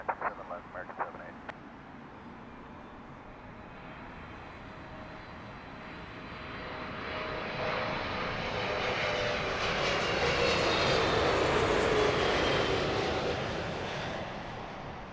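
An American Airlines jet landing on runway 27 left swells from a distant rumble into a loud, close roar that peaks late and begins to ease, with a few brief clicks near the start.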